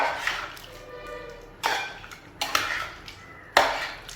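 A metal spoon stirs Kerala chicken curry masala in a pan, giving four distinct clinks against the pan amid a soft scraping sizzle, close and moderately loud.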